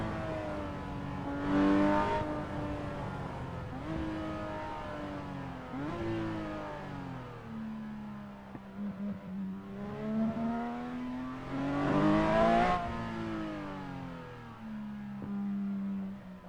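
Porsche 992 GT3 RS Weissach engine in a driving game, revving up and down through gear changes while cruising a large Hong Kong city loop; loud, continuous harmonic engine note with repeated rising sweeps and brief shift dips, no talk.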